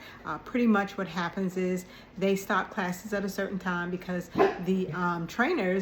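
A pet dog barking and yipping in short bursts at home, heard under someone talking continuously.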